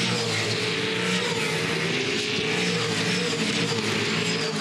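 Race cars in the Dunlop Series roar around Bathurst in a dense, continuous engine drone, loud and steady throughout with a broad hiss of track noise and no clear pass-bys.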